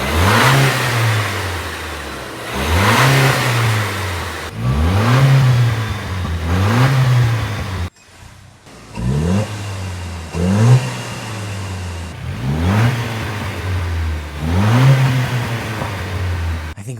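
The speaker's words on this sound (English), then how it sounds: "So let's do a little acceleration and see if you guys can hear it." A Toyota Land Cruiser with a louder turbo setup revs repeatedly under acceleration, recorded near the fender, with rising and falling engine surges and turbo whine in loud waves and a brief drop midway.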